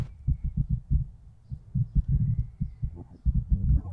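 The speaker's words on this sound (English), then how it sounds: "Are those like irregular heartbeat?" Irregular heartbeat in the horror game OK/NORMAL, loud muffled low thumps in uneven clusters and pauses, repeating throughout with nothing else over them.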